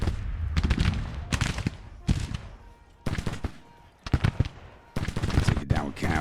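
Gunfire from units in the Civil War strategy game Grand Tactician: The Civil War crackles in repeated ragged volleys, dense bursts of musketry with short gaps between them, loud and close.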